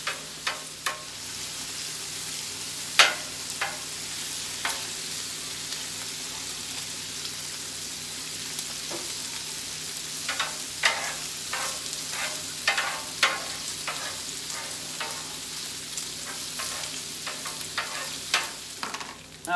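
Bacon and onions frying on a Blackstone griddle, a constant soft sizzle with repeated scraping and clicking of a spatula stirring the food, close and unaccompanied by talk.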